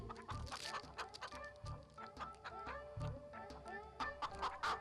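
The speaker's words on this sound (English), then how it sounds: "A hen with her 3 chicks was living happily." A hen clucking near her three chicks, with repeated short clucks and high peeps coming in bursts throughout, fairly close and clear.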